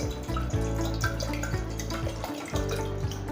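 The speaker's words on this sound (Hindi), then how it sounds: "सबसे पहले इसके अंदर ठंडा पानी जाएगा, फ्रीज हुआ हुआ पानी हमें यहाँ पर चाहिए, जो तकरीबन 2 गिलास हम यहाँ डालेंगे" Cold water poured from a glass into a pot to start Kashmiri tea, a steady close splashing stream with slight drips, continuous for a few seconds with no talk.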